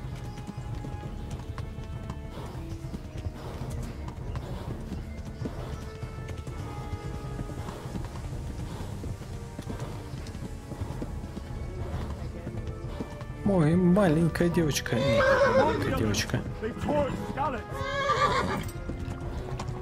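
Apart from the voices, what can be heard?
horse galloping in a video game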